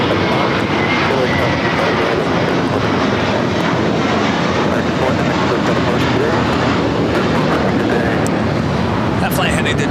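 Jet airliner engines roar steadily at LAX airport, a loud broadband rumble holding throughout, with faint radio chatter mixed in.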